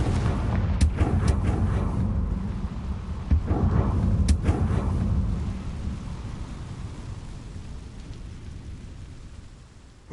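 A Confringo blasting spell in Hogwarts Legacy sets off a heavy rumbling explosion with sharp cracks in the first few seconds, then a long booming tail that slowly fades away.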